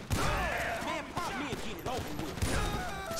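Shotguns and assault rifles fire in Grand Theft Auto V in several bursts of rapid gunshots, loud and close, with brief pauses between volleys and in-game voices mixed in.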